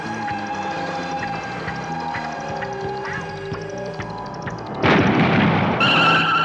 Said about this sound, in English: the car is spinning out on it